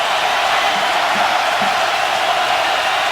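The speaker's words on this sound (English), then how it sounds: "the crowd coming to life for the first time" Football stadium crowd at a Michigan State game coming to life on a third-down play, a loud, dense, continuous roar of cheering that fills the whole stretch without a break, and no commentary on top.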